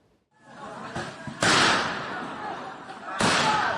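Gunfire rings out as soldiers disperse protesting railway workers at night in Myanmar. Two sharp, loud cracks land about two seconds apart over a low background din.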